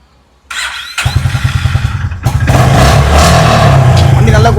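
A Honda H'ness motorcycle with 16,000 km on it starts up close by, settles into a steady idle, then revs louder and holds a fuller running note. A voice may be faintly audible underneath.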